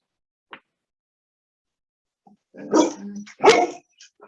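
A dog barks indoors during an online panel discussion, first a faint single yip, then two loud close barks with a growling edge and a few short trailing yips.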